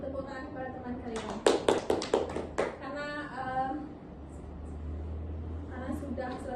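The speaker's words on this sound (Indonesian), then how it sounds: "Tepuk tangan kepada teman kalian." A few pupils in a classroom clap briefly for a classmate, a short cluster of sharp hand claps standing out between stretches of a teacher speaking.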